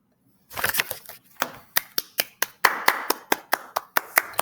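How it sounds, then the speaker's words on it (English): A burst of hand clapping that settles into a steady, evenly spaced series of sharp claps, close and loud. "Round of applause."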